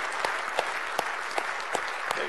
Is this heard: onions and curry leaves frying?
no